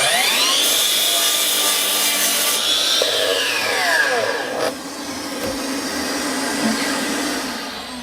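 Makita 40V 305mm cordless mitre saw cutting through wood, the motor whining up loudly, the blade biting in with a changing, gliding pitch, then winding down near the end, with no speech.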